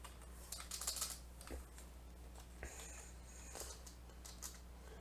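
Fast, light clicks of typing on a computer keyboard, heard in short irregular bursts over a steady low hum.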